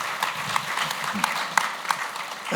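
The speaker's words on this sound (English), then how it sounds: "That's my cheering session." An audience applauds at a chef interview event, with scattered, uneven claps and people talking over them.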